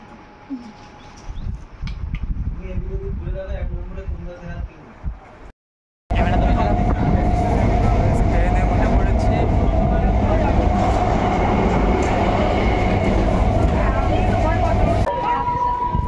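Train at Bhandartikuri railway station in West Bengal, a loud steady rumble with clattering wagons that starts abruptly after a brief pause in softer station ambience with faint voices and birds, continuing to the end.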